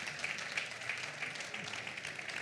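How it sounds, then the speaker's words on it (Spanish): A faint, distant patter of audience applause rises at a gastronomy cooking demonstration, a soft continuous wash of clapping under room noise. "Un aplauso."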